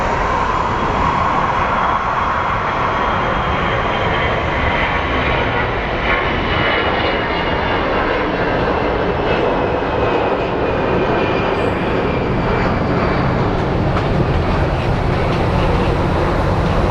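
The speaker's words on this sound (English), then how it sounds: "Little Airbus." At Phoenix Sky Harbor International Airport, an Airbus airliner's jet engines roar loudly and steadily, a continuous broadband rumble with a faint whine.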